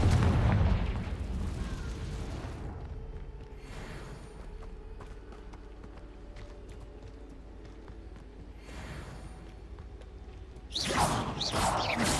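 A Confringo fire curse spell explodes in Hogwarts Legacy, with a heavy blast at the start and then several softer whooshing booms spaced apart over a low rumbling game background.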